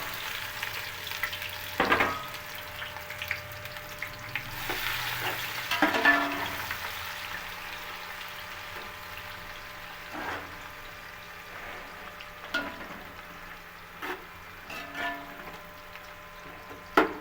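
Sliced onions fry in hot oil in a pot for chicken matar biryani, a steady moderate sizzle up close with occasional clinks and stirring knocks, no talk.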